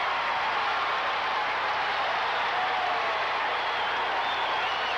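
Crowd noise fills a basketball arena during the 1984 women's championship game between USC and Tennessee, a steady broad wash of applause and cheering that holds loud and even for the whole stretch with no talk over it.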